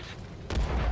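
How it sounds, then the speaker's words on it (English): A tank cannon fires once in World of Tanks, a single loud, sharp boom halfway through with a heavy low-end tail after quiet engine ambience. "He takes a shot."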